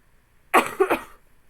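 A single close, harsh cough in three quick bursts, breaking an otherwise quiet background.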